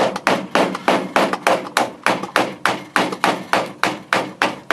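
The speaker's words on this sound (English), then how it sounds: "smacking it with a hammer." A hammer repeatedly smacks a putty knife wedged under rusted metal, producing a steady run of about twenty sharp metallic strikes in quick, even rhythm, close and loud with no talk.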